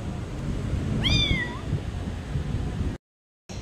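A cat in an unfamiliar new home gives a single clear, rising-then-falling meow over a low, steady room background.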